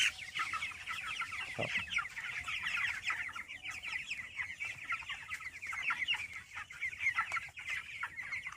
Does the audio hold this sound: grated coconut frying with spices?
no